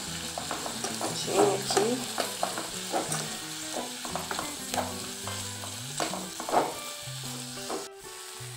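Salpicão ingredients seasoned with colorau are stirred while sautéing in a pan, a steady sizzle under repeated scraping spoon strokes, close by, with a brief spoken word.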